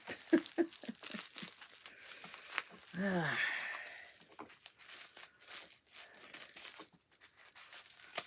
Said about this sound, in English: There's a beautiful pile of tissue paper.